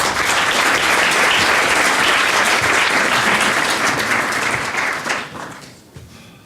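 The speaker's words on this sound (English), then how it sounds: "We welcome Ms. Nu Zhu from Nordea with a good applause." Dense audience applause welcomes a speaker at a Bayesian inference in Python talk, loud and sustained before thinning out and fading over the last second or so.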